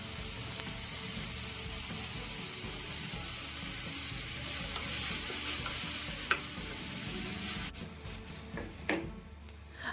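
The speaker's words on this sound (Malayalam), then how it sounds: "അതുപോലെ കറിവേപ്പിലയും കൂടി ഇട്ടിട്ട് നമുക്ക് നല്ലോണം ഒന്ന് വഴറ്റിയെടുക്കാം" Sliced onions sautéing with curry leaves and salt in a pan, a continuous close sizzle with stirring scrapes that quiets and turns sparse near the end, no talk.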